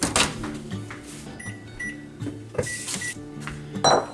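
A microwave oven melts butter: a busy mix of hum and short beeps with clattering kitchen handling noises, moderately loud and close, with no talking.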